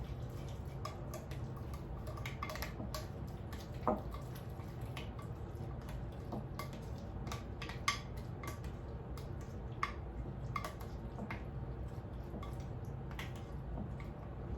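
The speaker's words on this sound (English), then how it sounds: "what we need to do is stir this together" Sandwich sauce stirred in a bowl, a soft steady run of light spoon clicks and taps with a few sharper knocks against the bowl, fairly quiet over a low room hum.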